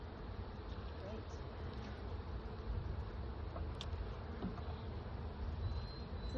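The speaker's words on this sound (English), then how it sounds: "there are bees all over the top" Honeybees buzz around an open hive during a spring inspection, a dense, continuous hum with faint voices in the background.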